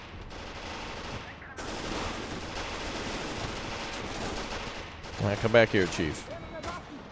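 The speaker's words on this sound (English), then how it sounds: "Where's all that PPSH coming from?" Dense, sustained automatic gunfire from PPSh submachine guns in the WWII game Gates of Hell, rattling continuously amid battle noise with a louder burst of shots near the end while someone talks over it.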